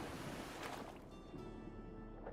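Surf rolling against the shore in the Monsters and Memories fantasy game, a steady wash of broadband noise with soft swells, continuous and alone, with no talk over it.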